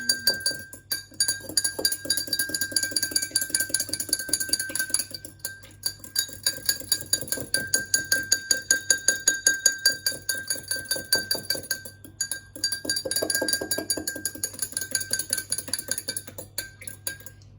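A spoon stirs a calcium-magnesium supplement mixture in a glass, clinking rapidly and rhythmically against the sides in long continuous runs with brief pauses, close and bright.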